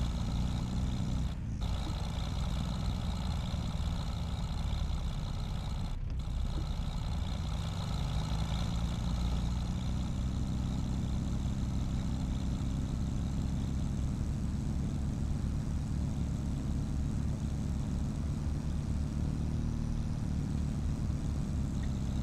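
A tractor engine in Farming Simulator 25 strains uphill with a continuous low, heavy drone that barely changes, broken by two very brief dropouts.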